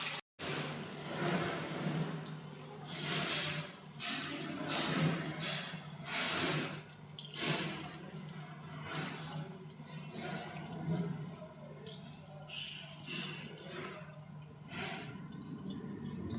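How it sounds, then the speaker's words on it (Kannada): Running tap water splashing as a face is washed, a steady close wash of water and drips continuing throughout at low level. "ನೀಟಾಗಿ ಒಂದ್ಸಲ ಫೇಸ್ ವಾಶ್ ಮಾಡ್ಕೊಳ್ತೀನಿ."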